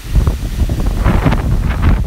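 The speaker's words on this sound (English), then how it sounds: "I would say that little gust right there was probably, again," Hurricane Irma wind gusting in Palm Beach, buffeting the microphone with loud rumbling roar and rustling leaves, swelling stronger toward the end with no talking.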